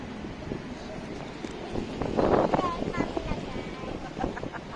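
Strong wind buffets the microphone outdoors on a city tour, a steady roaring rush with gusty swells, while people talk and exclaim over it.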